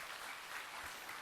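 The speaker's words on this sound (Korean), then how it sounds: "우리 주님께 감사의 영광의 박수를 드립니다." Church congregation clapping in praise during a Korean sermon, a short, even burst of applause that sounds soft and somewhat distant.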